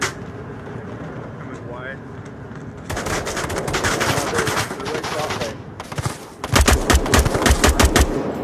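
Rapid automatic gunfire and scattered shots in a video game firefight, with bursts growing louder and denser partway through and sharp close volleys near the end, while background sound of the game continues.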